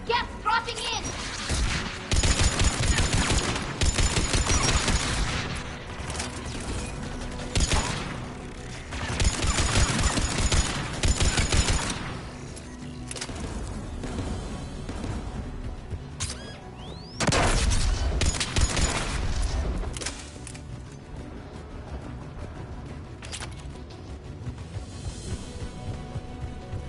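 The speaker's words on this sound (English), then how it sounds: "AA guns ahead of us." Heavy anti-aircraft gunfire pounds in bursts during a Mass Effect battle, loud and dense for several seconds, easing off, then returning in another burst, with combat noise and voices mixed in throughout.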